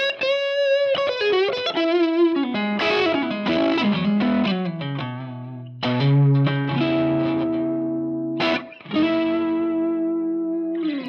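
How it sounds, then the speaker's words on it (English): Electric guitar through a Fender Stratocaster's neck pickup plays a bluesy lead line with bends, vibrato and sustained notes, warm and sweet with slight drive and chorus-like shimmer, close and prominent with brief pauses between phrases. "when you have the neck pickup on a Strat, it just gives you a very identifiable sound"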